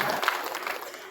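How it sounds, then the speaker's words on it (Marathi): An audience at a Guru Purnima religious program claps in a short burst, a dense patter of many hands at moderate volume. "टाळ्या वाजवा"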